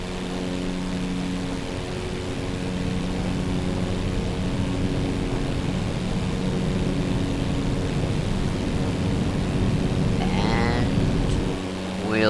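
A propeller airplane takes off in Microsoft Flight Simulator 2024, its engine a loud, steady droning roar with a throbbing hum that holds throughout, and a brief higher whine rises near the end.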